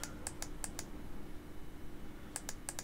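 Crisp computer keyboard and mouse clicks, a handful of quick clicks in a short burst, a pause, then another cluster of rapid clicks, close and fairly quiet over faint room hum.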